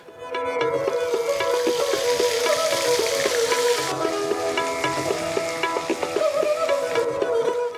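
Onion paste frying in hot oil with bay leaf and crushed garam masala, a loud, steady close sizzle with faint stirring scrapes, continuous throughout with no talking.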